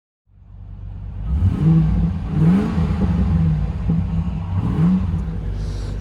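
The V8 engine of a 1996 Land Rover Discovery with a manual gearbox starts up and then idles. The deep rumble is steady and close, with slight swells in pitch and no talking.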